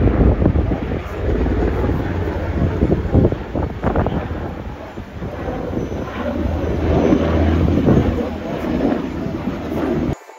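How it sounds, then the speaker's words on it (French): Strong gusts of wind buffet the microphone outdoors at a Plopsaland amusement park in winter, a loud continuous roar with rumbling low-end swells lasting throughout. "c'est assez chiant là qu'il fasse du vent"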